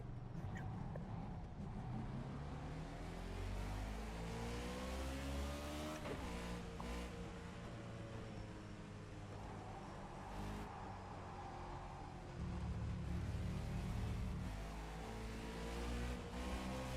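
Several NASCAR race car engines drone and rev steadily in a racing video game on a wet, rainy track, with rising and falling pitch sweeps of cars accelerating and passing, loud and continuous throughout.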